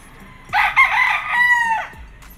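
An Elgama Gray gamefowl rooster crows once, a clear, close call lasting about a second and a half against quiet background.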